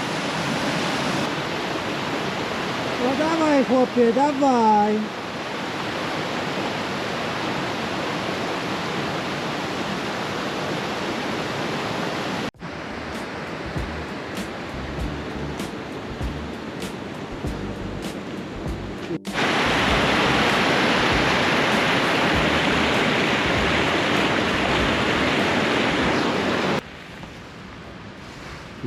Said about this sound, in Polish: na przykład sobie droga i mały wodospadzik